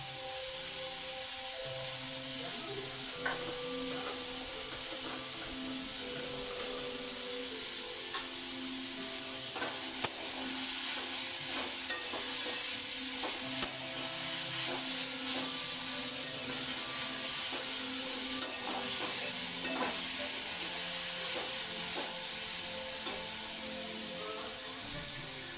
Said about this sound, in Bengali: এটা আমার হালকা করে ভাজা হয়ে গেছে